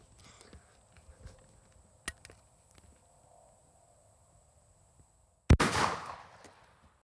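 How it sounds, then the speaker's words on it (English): A single sharp 12-gauge buckshot blast fires through drywall and exterior vinyl siding, loud and abrupt after several seconds of faint ambient noise and small knocks. "right now we're gonna shoot some 12 gauge through drywall and"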